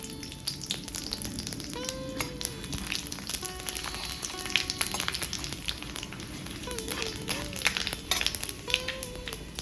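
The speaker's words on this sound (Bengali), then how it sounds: "ফোড়নগুলো হালকা করে ভাজা হয়ে গেছে" Continuous crackling sizzle of whole spices, a dried chilli, bay leaves and five-spice, frying in hot oil, with sharp pops and faint tonal squeaks scattered throughout, fairly close and steady.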